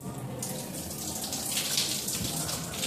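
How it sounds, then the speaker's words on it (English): A laser-sensor water fountain urinal at a vintage scooter rally runs with a steady close rush of splashing water, continuous and fairly loud for the whole moment. "It's a water fountain with a little laser action. Goes off when you cross it."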